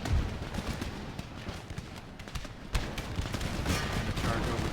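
Musket volleys and cannon fire from an Empire Total War battle, a steady crackle of distant gunfire with sharper shots standing out, while a voice talks over it.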